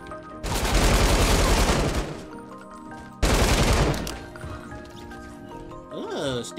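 Automatic gunfire in the Fortnite video game comes as two long, loud rapid-fire bursts separated by a short pause, with a brief tonal game sound near the end.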